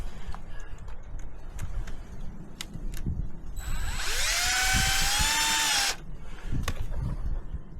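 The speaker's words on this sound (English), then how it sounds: "but you don't have to, you can drill it" A drill bores into plastic pipe for a lobster pot, a sharp whining burst lasting a couple of seconds with rising pitch, preceded and followed by light clicks and handling noise.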